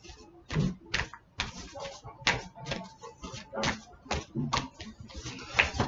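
A deck of tarot cards being shuffled, heard as a quick series of dry, crisp card riffles and slaps at close range, with a few brief pauses between bursts and no talking.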